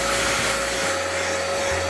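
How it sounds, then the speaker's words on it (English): A hair dryer blows steadily on an art journal page to dry it, a loud, constant whirring hum with a fixed pitch that lasts throughout. "Use a hair dryer to dry your project if it's not going quite fast enough for you."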